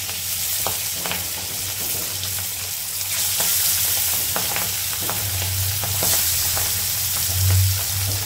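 Pabda fish frying in a little oil in a wok, a steady close sizzle with sharp crackles and spits popping irregularly throughout.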